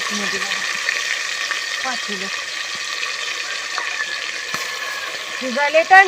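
A village-style tripe curry frying in a pan as turmeric goes in, a soft steady sizzle with light stirring heard close by while someone talks over it.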